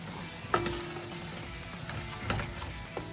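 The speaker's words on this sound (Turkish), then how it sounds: "un koyuyoruz. Unumuzu kavuruyoruz." Soft sizzling and scraping in a pot as flour is stirred and toasted in oil, with a few clinks of a utensil against metal.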